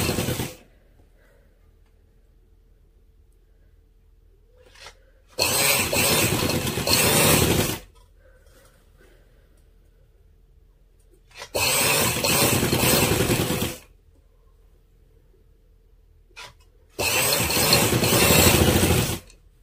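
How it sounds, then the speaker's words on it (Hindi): A sewing machine stitching a kameez hem runs in three loud, even bursts of about two seconds each, separated by near silence. "मैं सिलाई लगा के दिखाती हूँ।"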